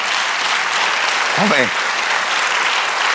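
Church congregation applauding during a Spanish-language sermon, a dense, steady wash of clapping that fills the space, with a single voice briefly speaking over it partway through.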